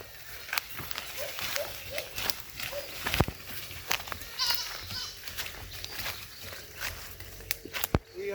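Goats bleat at intervals on a goat farm in St. Elizabeth, Jamaica, with small kids among them, in short repeated calls over shuffling hooves and rustling; people talk now and then in the background.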